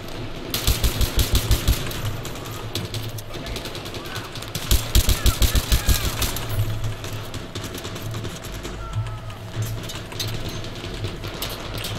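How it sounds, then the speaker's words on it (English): Bursts of automatic gunfire in the PC shooter Battlefield 3, with two rapid rattling volleys near the start and middle over a steady din of game noise. "I hear a lot of gunfire, I just don't know where."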